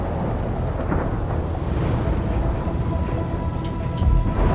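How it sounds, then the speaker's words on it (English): An electrical thunderstorm over the Great Lakes, with a dense, steady roar of rain and low rumbling thunder that swells near the end. "And a major electrical storm is rolling in."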